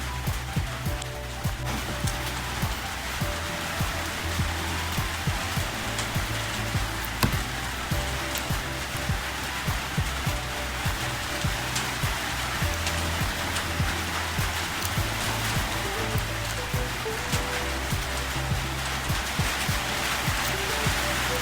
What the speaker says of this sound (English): She dropped a comment saying the sounds of the rain was so soothing.